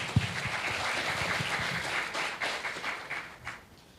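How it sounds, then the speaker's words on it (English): Seminar audience at a technology conference breaks into applause, individual claps distinct within a moderate, fairly close-sounding ovation that gradually tapers off toward the end. "Let's give them very good applause before starting the seminar."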